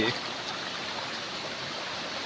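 Continuous rushing water flowing steadily, fairly close and broadband, with no voices over it.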